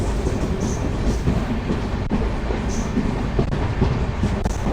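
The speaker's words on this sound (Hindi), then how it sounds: "देखिए ट्रेन ने अच्छी गति पकड़ी हुई है" The Amritsar-Bikaner superfast express train rushes along at speed, giving a continuous loud rumble of wheels on rails with faint rhythmic clacks and brief higher squeals running through it.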